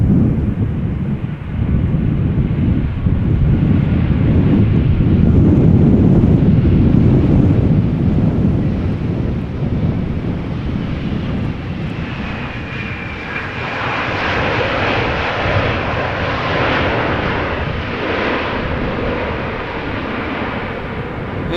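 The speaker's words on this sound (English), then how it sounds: "This is Welling flight 1377 arriving from Alicante. It's A320." A Vueling Airbus A320 arriving from Alicante at Amsterdam Schiphol in stormy weather rumbles loudly through gusting wind, its deep engine roar shifting to a higher whine as it passes, with no voices.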